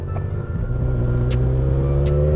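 A car reversing along the oncoming traffic lane of a road, heard from a bike: a steady, loud engine hum and road rumble with brief wind bursts, and no speech.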